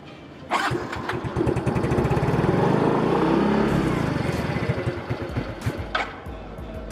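A Yamaha Mio M3 scooter engine fitted with a racing camshaft cranks, catches and runs roughly for several seconds with a pulsing mid-pitched putter, then dies. The engine is close and loud, with a few clicks at the end.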